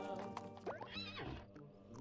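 A horse whinnies in the golf video game What The Golf, with a rising and falling neigh standing out near the middle over busy game music and effects.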